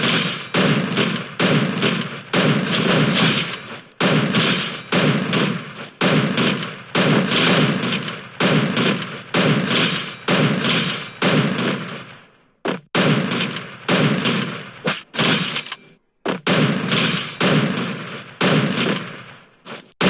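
An M590 shotgun in a video game fires in loud, rapid bursts with brief gaps for quick reloads, dense and close.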